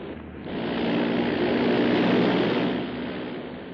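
A propeller airplane drones overhead as it comes in to land, a steady, loud engine roar that swells and holds, then eases slightly toward the end, with no voices over it.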